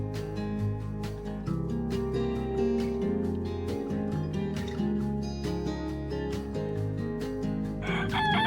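A hen crowing like a rooster, heard repeatedly and loud through the clip during a flock move onto fresh pasture, with occasional clucks around it.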